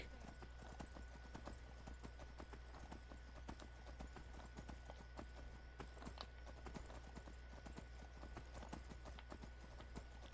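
A horse gallops in the video game Skyrim, a rapid, steady clip-clop of hooves running continuously at moderate distance over a soft ambient bed, fairly quiet overall.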